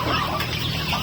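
Native chickens and turkeys in a backyard poultry pen with young chicks, soft clucking and chattering close by in a steady, busy murmur.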